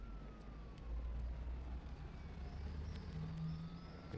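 Ambulance siren in the video game Grand Criminal Online, a faint wailing tone gliding slowly up and down over a low vehicle rumble, quiet and somewhat distant.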